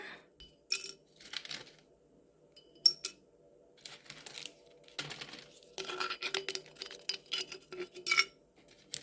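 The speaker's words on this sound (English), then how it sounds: "What you want to do is start filling your jar." Light, scattered rattles and clinks of small pieces of dried butternut squash falling into a glass jar, irregular and quiet, with short gaps between pours.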